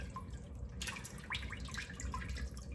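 Water drips and trickles as cooked Hainanese chicken is drained, a faint, steady patter with small splashes close by in a quiet kitchen.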